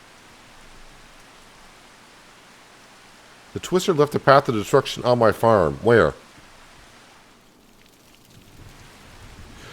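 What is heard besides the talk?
rain in the video game Farming Simulator 25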